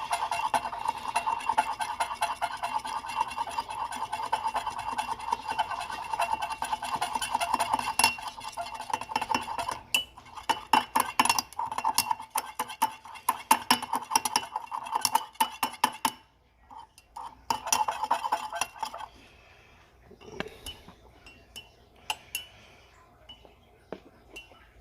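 Tortoise food mixture being mixed in a container, with a steady close scraping and clinking of utensil against the container that stops after about sixteen seconds, followed by a few scattered knocks and quieter handling sounds.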